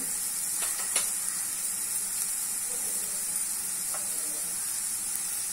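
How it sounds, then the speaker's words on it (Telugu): Onions fry in oil in a pan for a Telugu-style chole curry, giving a steady, close hiss and sizzle with a few soft stirring clinks, and no voice over it. "ఉల్లిపాయలు వేసుకుంటున్నాం ఫ్రై చేసుకుందాం"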